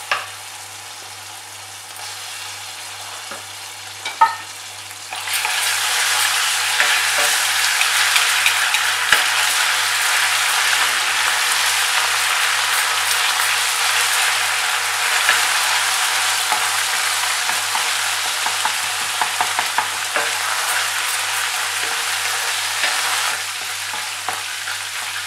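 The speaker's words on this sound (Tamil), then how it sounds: "எண்ணெயில் நான் டைரெக்டாக இஞ்சி பூண்டு வேக" Ginger and garlic hit coconut oil already holding cinnamon, cloves and fennel for a spicy prawn pepper masala; a few quiet clicks give way after about five seconds to a loud, sustained close-up sizzle, with no talking.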